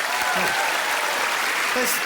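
A comedy club audience claps steadily at a roast-style stand-up show, dense and sustained applause filling the room from start to end, with a few brief voices and cheers poking through.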